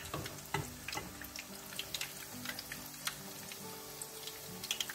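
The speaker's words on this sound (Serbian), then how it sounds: "Pržimo, tu smo." Pieces of KFC-style chicken fry in a pan of oil, giving a quiet, continuous bubbling sizzle with scattered soft pops and occasional light knocks of a utensil.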